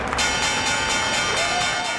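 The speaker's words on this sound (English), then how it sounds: "The opening bell rings," A stock exchange opening bell rings in a sustained, bright metallic tone that holds steady for a couple of seconds without talk.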